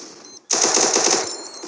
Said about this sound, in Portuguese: Nossa, as granadas.